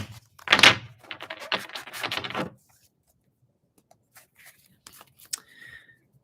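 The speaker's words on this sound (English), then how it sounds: "we'll shuffle some cards." Tarot cards are shuffled close by in quick riffling bursts during the first seconds, followed by quieter scattered taps and card handling.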